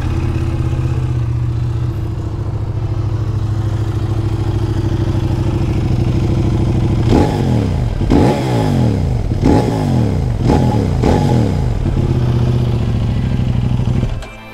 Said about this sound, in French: Je vais vous faire écouter le bruit de l'échappement.